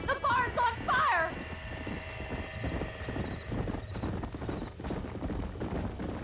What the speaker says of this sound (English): ¡Los caballos!